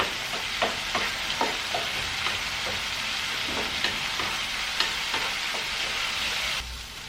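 Tin fish curry with potatoes and tomatoes sizzles steadily in a pan, a constant frying hiss broken by scattered soft stirring taps, close and alone.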